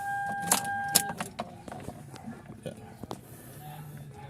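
Keys to a Toyota Corolla jingle in a few bright, close metallic clinks near the start, followed by softer handling noises over a low background hum.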